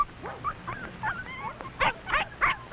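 A big red setter barks in short yips and whimpering cries, with a few louder barks near the end, close and clear, with no talking.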